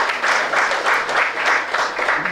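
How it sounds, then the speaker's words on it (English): An audience at a university IEEE student branch inauguration claps in a loud, close, steady burst that pulses slightly in intensity throughout. "So a huge applause for all of my team members."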